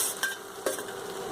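A spoon stirs leafy greens into a sizzling fry, two soft scraping knocks over a faint steady crackle, quiet and close.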